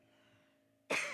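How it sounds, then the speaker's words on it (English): During a Shabbat service, a person gives one sudden, loud, close cough that breaks the quiet room hum near the end. "I have to cough."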